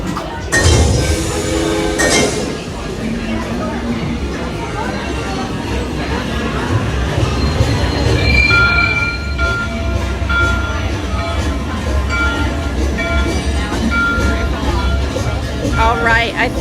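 Disney park railroad ride aboard the train with an engineer-character announcement: a steady rumble of rolling wheels with occasional clinks and rattles, heard close under continuous loud crowd chatter and a voice on the speaker.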